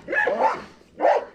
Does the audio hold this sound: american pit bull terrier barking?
yes